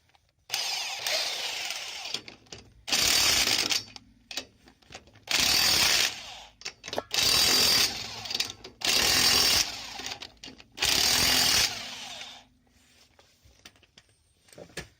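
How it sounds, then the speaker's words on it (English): An impact driver tightens the bolts on a 4-bolt to 5-bolt wheel adapter in roughly six loud, close, one-second rattling bursts, separated by short quiet gaps and lighter clicks. "So we'll get the impact driver and secure those"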